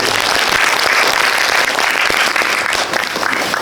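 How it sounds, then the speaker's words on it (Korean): A cinema audience applauds at a Korean film's stage greeting talk, steady dense clapping filling the whole stretch with no voices over it. "박수 한번 부탁드립니다."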